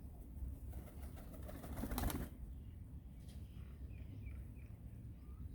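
A pigeon coos softly after landing, with a brief burst of wing flaps early on, then quiet low cooing in a faint outdoor setting.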